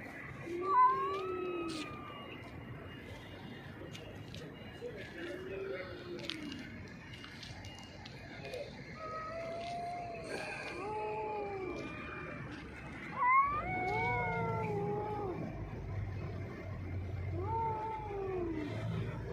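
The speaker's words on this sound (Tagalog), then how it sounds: "Nagkaaway yung pusa." Stray cats yowling and caterwauling during a fight, long rising and falling moans repeated throughout at close range, with faint background noise and occasional thuds.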